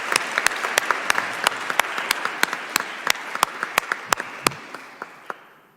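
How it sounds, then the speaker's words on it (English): An audience applauds the speakers at a climate and health launch event, with loud, crisp individual claps over a steady bed of clapping that thins and fades toward the end. "Let's give them a round of applause, please."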